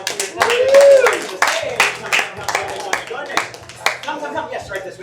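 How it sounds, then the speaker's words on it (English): Audience clapping for three volunteers at a live magic show, brief scattered claps beneath a presenter's voice that stays in the foreground throughout. "And a big round of applause for our three volunteers."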